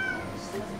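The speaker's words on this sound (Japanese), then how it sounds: "猫が鳴いております" A brief cat meow, fairly faint, rising out of a low background hum.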